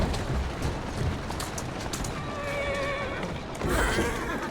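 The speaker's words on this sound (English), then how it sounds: "Who's a good horse? You are." A horse in Assassin's Creed Syndicate gives a clear whinny partway through, a rising and falling neigh over steady street and carriage ambience with hoof clatter, ending in a louder burst of noise.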